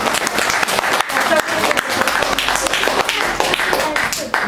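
A school audience at a second-grade puppet theatre show bursts into loud, dense, continuous applause, with some voices mixed in.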